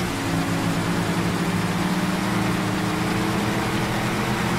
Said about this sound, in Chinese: 怠速到2500转，应该是那个 gearbox 爆掉了。